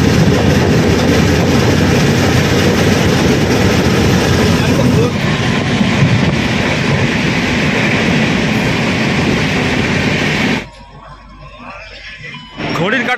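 The 13152 Jammu Tawi Kolkata Express arrives at Netaji Subhas Chandra Bose Junction (Gomoh) with a loud, steady, close rumble of wheels and carriages for about ten seconds, then drops abruptly to a much quieter hum before briefly swelling again.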